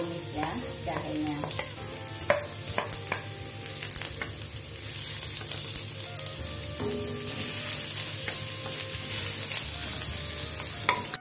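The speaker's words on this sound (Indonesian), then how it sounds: "Jahenya dulu ya kita tumis ya, jahenya." Ginger stir-fried in a pan for sambal goreng with pineapple and sardines: a steady close sizzle with scattered scraping stirs and clicks of a utensil against the pan, no talking.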